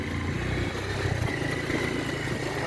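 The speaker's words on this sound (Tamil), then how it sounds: "வண்டி பாறையில் ஓடுது" Motorbike riding over rock near a dam, a steady close engine drone with rattling and clatter from the rough surface, continuous and moderately loud, with no talk.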